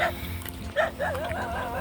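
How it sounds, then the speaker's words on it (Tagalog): A dog whimpers and yips in short whiny bursts, fairly close, over a steady background hum. "so may aso hello doggy"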